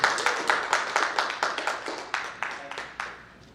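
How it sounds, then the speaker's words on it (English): A conference audience at a business expo claps in a close, steady round of applause, sharp individual hand claps repeating rapidly and gradually thinning and fading over a few seconds, with no talking over it. "please give them a big round of applause."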